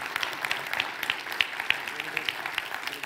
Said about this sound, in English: would you give a big round of applause and welcome back all of our TY chefs